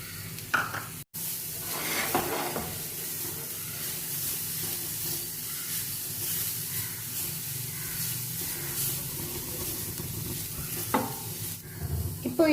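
Coconut and jaggery fry in ghee in a pan for a sweet kozhukattai filling, with a continuous close sizzle and hiss broken by occasional stirring scrapes and clanks against the pan over about twelve seconds.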